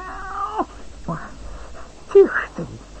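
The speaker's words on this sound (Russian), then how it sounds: "Кот!" A cartoon cat meows a few times, drawn-out cries rising and falling, with other voices and movement in a busy farmyard scene.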